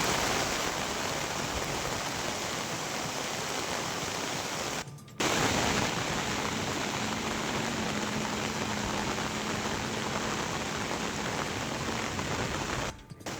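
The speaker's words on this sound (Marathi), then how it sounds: "मुसळधार पावसामुळे तालांबा नदीला पूर आलाय" Heavy monsoon rain pours down steadily, a loud, dense hiss that briefly cuts out twice, during downpours that flooded the Talamba river.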